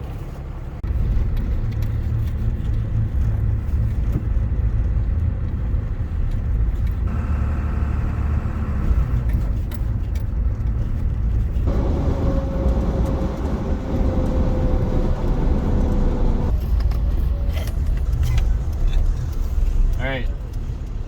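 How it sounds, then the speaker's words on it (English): A 1st Gen Cummins truck is driven while warming up to temperature with the heater on max heat and fan, its low engine rumble and road noise steady throughout, with occasional shifts in tone and someone talking over it. "go for a drive until we're up to temperature"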